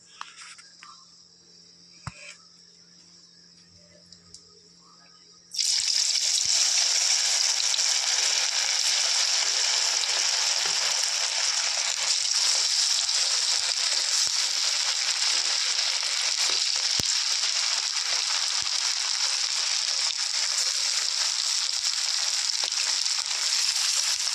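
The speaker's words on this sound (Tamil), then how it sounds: "இப்போ நம்ம வந்து வச்சுருக்கிற சிக்கனை வந்து அதில் வந்து பொரிக்க போகிறோம்" Chicken 65 pieces deep-frying in hot oil give a loud, steady, dense sizzle that starts abruptly after a few seconds of quieter kitchen sounds and continues without a break.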